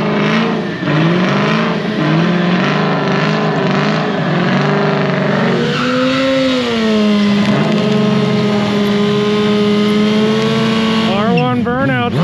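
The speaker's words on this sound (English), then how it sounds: "R1 burnout, boy!" A 2005 Yamaha R1 superbike holds a loud, sustained high-revving burnout at a drag strip, engine pitch wavering as tire squeal and roar fill the air, ending in quick revs.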